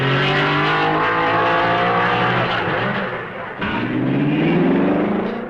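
1955 Formula One race cars roar past at Spa during the Belgian Grand Prix, loud engine notes rising and falling as cars pass close by, with a second car sweeping through near the end.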